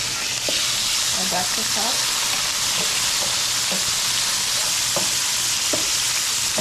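Shrimp frying with eggplant and potatoes, a loud, steady sizzle with scattered clicks and scrapes of stirring, while a voice speaks briefly over it.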